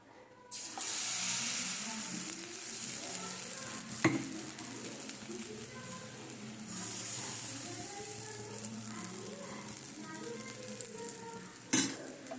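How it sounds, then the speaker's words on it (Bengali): Rice batter for chitoi pitha hits an oiled pan and sets off a sudden, steady sizzle that hisses continuously, with a couple of sharp metallic clinks of utensil against pan. "এইভাবে তেলটা ছড়িয়ে দেবো ঠিক আছে করে ব্যাটারটা যেমন দেওয়া হয় ওইভাবেই দেব"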